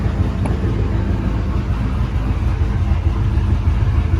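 A truck engine, freshly fitted with a new cam, runs at around 1,000 RPM with a loud, steady low rumble that holds evenly from start to finish.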